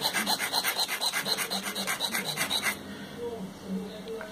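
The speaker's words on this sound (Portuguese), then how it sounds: "Pode limar bastante e deixar reto" A metal nail is filed flat by hand to make a homemade nail-art stamp, a close, rhythmic rasping of quick repeated strokes that stops partway through, followed by quiet handling.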